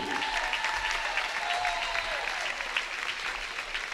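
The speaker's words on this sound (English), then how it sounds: "Let's give them a round of applause, please." A crowd at a school sports event claps steadily and loudly for a seventh-grade team, with a few cheers and whistles mixed into the sustained applause.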